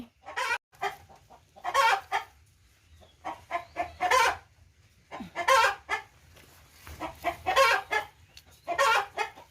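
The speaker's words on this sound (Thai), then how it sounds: "ไก่ร้องไม่หยุดเลย" Laying hens cluck and squawk in repeated loud bursts, several birds calling close by with short gaps between, no talking.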